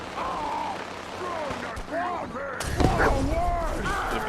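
Gunfire and explosions in the video game Fallout 4, a dense, continuous barrage of shots and blasts with a sharp burst midway, layered over a steady background battle din.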